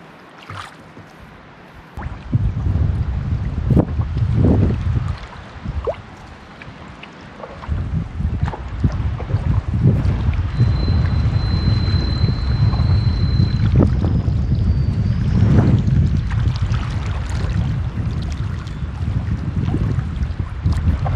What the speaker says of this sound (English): I'll let you enjoy your last little evening paddle for the trip.